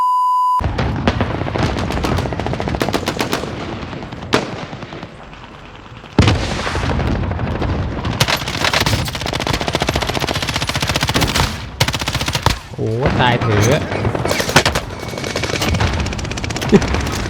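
Rapid automatic fire from an AR-type M13 assault rifle in the video game Call of Duty: Warzone, with loud, dense bursts of shots, some explosive booms, and brief pauses between volleys across the stretch.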